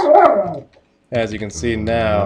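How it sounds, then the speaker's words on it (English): A dog barks in the background of a home recording, giving a loud bark at the start and then yipping and whimpering under someone talking close to the microphone. "again I apologize for the dog barking."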